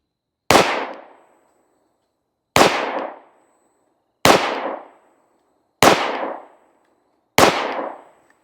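Five sharp, loud gunshots from a Ruger LC Charger pistol with a non-threaded barrel, firing 40-grain Hornady Critical Defense 5.7x28 ammunition. The cracks come evenly spaced about every second and a half, each with a short ringing decay, and no one speaks.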